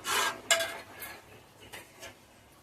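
A spoon stirs milk into a pot of atukula payasam, a flattened-rice pudding, making four or five quick scraping clinks against the metal pot in an uneven rhythm, close and fairly clear, with no talk.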